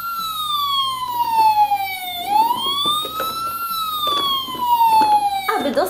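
A Barbie mobile clinic toy ambulance siren wails up and down in a steady electronic tone, with faint clicks and handling noises underneath.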